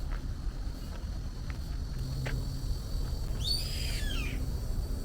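A tropical bird in a Rio de Janeiro park gives one sharp, descending screeching call late in the clip. The call is heard at moderate distance over steady outdoor ambience, with faint scattered sounds earlier.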